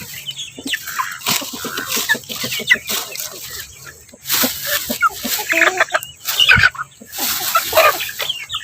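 Chickens cluck steadily on a small farm, a busy flock close by with short repeated calls and occasional louder squawks, and a voice speaks faintly now and then.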